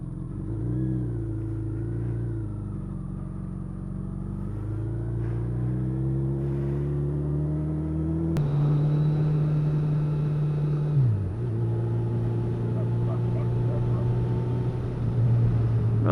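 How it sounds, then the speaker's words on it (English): A Ducati Multistrada motorcycle engine of 160 horsepower idles and revs, rising in pitch then dropping, growling steadily up close with a sharp shift partway through. "Well, at least we know it's a motorcycle because dogs hate it."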